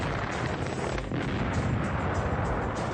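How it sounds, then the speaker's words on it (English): An explosion unleashes a dense, loud roaring rumble that stays steady and wide from start to finish, with no quiet gaps. "Explosions. This is pressure gone wild."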